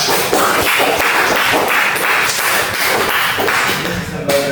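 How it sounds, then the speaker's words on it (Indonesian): Classroom applause during a micro-teaching economics lesson, with a steady wash of hand clapping from a group filling the whole stretch at fairly close range before it thins out at the end. "Tepuk tangan untuk Julia."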